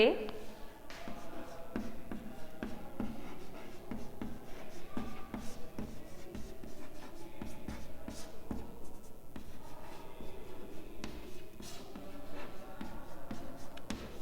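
Chalk or marker scratches and taps on a board during a physics lesson, a steady stream of short strokes and knocks at moderate volume, partly under a teacher's speech.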